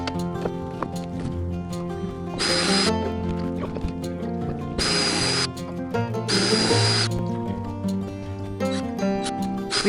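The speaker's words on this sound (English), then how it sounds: "We pre-drilled the holes for the screws" A power drill pre-drills screw holes in wood while a picket deck table is being built, heard as three loud, bright bursts of drilling about a second long each, over a steady background with music-like tones.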